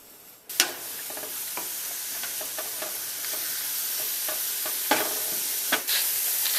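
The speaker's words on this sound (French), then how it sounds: "Alors, on va cuire nos oignons. On va les faire suer pour environ 5 à 6 minutes" Onions sweat and sizzle in a pan for pâté chinois, giving a steady close frying hiss with occasional sharper crackles and spatters, and no talking.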